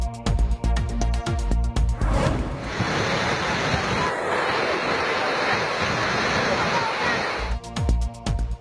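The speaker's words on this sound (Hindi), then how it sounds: "4 साल बाद पहाड़ी नालों में पानी बहने लगा" Water rushing through hillside mountain streams after heavy rain, a loud, steady broadband roar that fills the middle of the clip, with a voice speaking before and after it.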